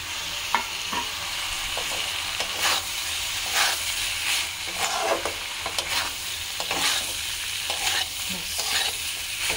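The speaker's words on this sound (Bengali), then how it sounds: "আর এখানে যে ডিমগুলো ভাজা আছে ওগুলো এবার আমাকে মিশিয়ে দেবো।" Chowmein with fried eggs and Kashmiri chili powder is stirred in a hot pan, giving repeated scraping strokes over a continuous close sizzle and hiss.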